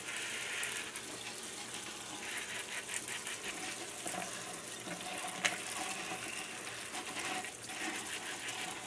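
Strawberries are washed under a running kitchen tap, a steady close rush of water with faint splashes as the fruit is rinsed.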